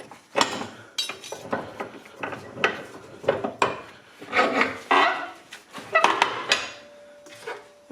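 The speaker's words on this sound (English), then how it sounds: "So I have to continue sharpening" An electric lawn mower blade is sharpened by hand with a series of uneven scraping and rasping strokes, close and fairly quiet, with no talking.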